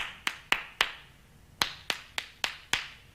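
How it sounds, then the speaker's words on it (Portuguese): Eight sharp hand claps struck fingers-to-palm in the classic applause style, in a group of three then a steady run of five, close and crisp with quick decays and no voices. "a clássica do aplauso, dedos de uma mão na palma da outra."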